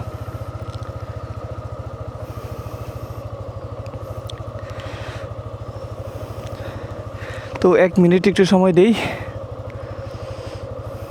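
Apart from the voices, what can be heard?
motorcycle engine idling in neutral to warm up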